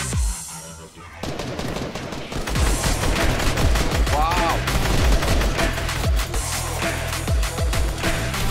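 Rapid mounted-turret gunfire in the video game Fortnite, a dense, loud, continuous stream of shots rattling without pause, layered with other in-game weapon noise.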